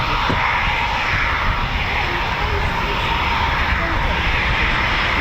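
An RAF Typhoon FGR4 fighter jet turning round at Coningsby, a steady broad engine roar that stays loud and constant throughout with faint voices nearby.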